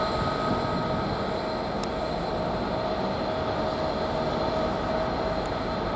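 A train pulls out of Doncaster railway station with a steady, continuous rumble and a faint tonal hum that holds evenly throughout, with no voices.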